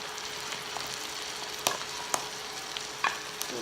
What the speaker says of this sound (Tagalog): And now we will add the tomato sauce.